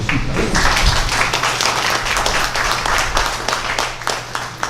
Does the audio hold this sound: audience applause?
yes